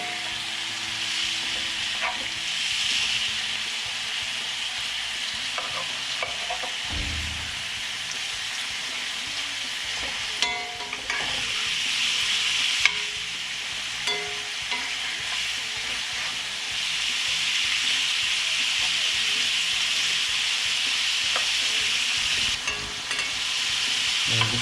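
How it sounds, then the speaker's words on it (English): Shrimp coated in Cajun seasoning sear in a hot pan for shrimp and grits, a steady loud sizzle with occasional stirring scrapes and clinks, no voices. "This will sear in that Cajun seasoning I put on them."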